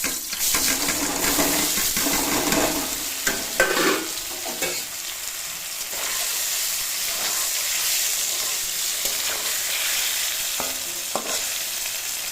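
Paneer pieces rubbed with salt and turmeric fry in a hot pan, giving a steady close sizzle and hiss broken by scraping, clattering stirs, with no talking.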